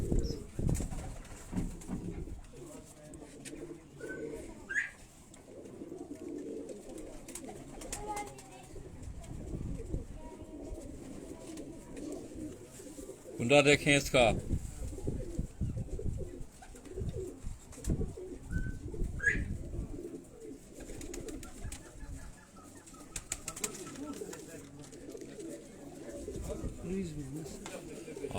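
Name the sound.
Teddy pigeons cooing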